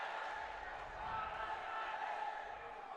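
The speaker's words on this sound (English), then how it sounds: "Lots of cheers in the crowds." Spectators roar and cheer throughout a dodgeball world championship bronze-medal match between Malaysia and Australia: a steady, dense crowd wash with a commentator talking over it.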